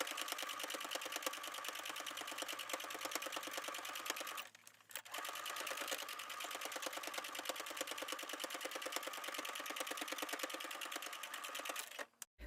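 Sewing machine topstitching a fabric face mask, with fast even needle clatter close up, a brief pause near the middle, then continuous stitching until it stops at the end.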